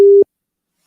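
A single short tone of a telephone busy signal from a call that fails to connect, loud and clean, cutting off abruptly into silence.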